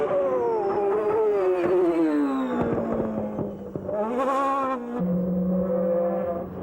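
A 1995 Sauber Ford Formula One car moves up the pit lane, its high-pitched engine note sliding down and rising again, then settling into a steady loud whine.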